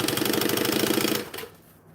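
A sewing machine stitches fabric in a rapid, even mechanical chatter for just over a second, close and loud, then slows and stops.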